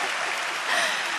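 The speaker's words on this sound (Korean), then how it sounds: "박수 부탁드릴게요" A church congregation claps in a brief, dense burst of applause, steady and fairly loud throughout with no speech over it.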